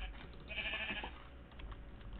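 A grey sheep in the video game Minecraft: PS1 Edition gives a low-fidelity, muffled bleat that wavers briefly, faint against a quiet background.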